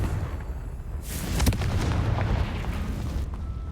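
A Confringo blasting spell explodes in Hogwarts Legacy with a sudden booming burst and a rumbling, crackling tail that fades over a few seconds.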